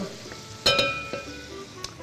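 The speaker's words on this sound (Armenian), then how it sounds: "թող տապակվի սոխը" Onion hits hot oil in a pan with a sharp burst of sizzling, then settles into a softer steady fry with a light metallic clink, close by and alone.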